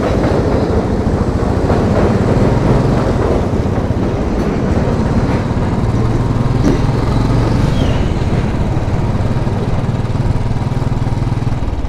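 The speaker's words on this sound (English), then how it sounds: "D train." A New York City D train rolls over elevated track in deepest Brooklyn, a steady loud rumble with rhythmic wheel clatter filling the whole stretch, close and continuous without letup.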